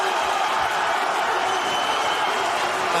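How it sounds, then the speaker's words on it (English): Loud, dense crowd roar fills an MMA fight arena in Copenhagen, a steady wall of cheering with scattered clapping that never lets up, with commentary voices mixed underneath. "the crowd here in Copenhagen is absolutely deafening"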